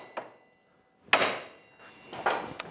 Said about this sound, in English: we need to use a dead blow hammer on that because a regular hammer is going to damage the threads